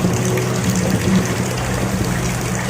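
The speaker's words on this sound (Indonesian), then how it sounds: "hanya suara gemuruh air yang menjawab" Roaring, rushing floodwater sound effect played at a sixth-grade school performance, a loud, steady wash of gushing water with a low rumble running unbroken throughout, heard alone.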